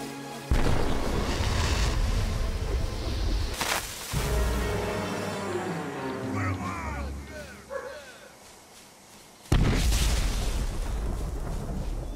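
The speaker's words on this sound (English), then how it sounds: "And now the firing flares." Flares are fired in Valiant Hearts, a World War I game, with loud booming launches at the start, midway and near the end, separated by quieter moments carrying a voice and a few barking sounds.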